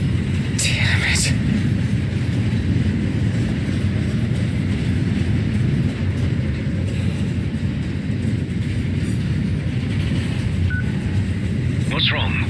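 A moving train in the Final Fantasy XV video game rumbles as a steady, loud low roar throughout, with faint higher rattling bursts near the start and end.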